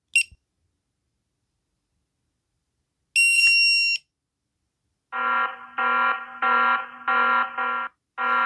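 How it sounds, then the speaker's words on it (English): A Bluetooth tracker in a tactical wallet sounds its disconnection alarm: a short chirp, a shrill tone, then a loud repeating buzzy beep pattern in rapid bursts. "Setting an alarm if the Bluetooth is disconnected."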